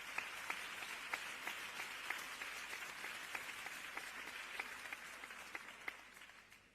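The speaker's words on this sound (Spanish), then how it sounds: "os pido un aplauso para Teresa" A seated audience at a talk on gender perspective in the media gives steady, moderate applause for a speaker, with a few sharper individual claps standing out before it fades.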